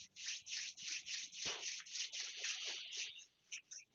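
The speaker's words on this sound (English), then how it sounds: "Gently rubbing the palms together." Palms of the hands rubbed gently together during a qigong exercise, a soft steady swishing friction that repeats in close, quiet strokes with no talking.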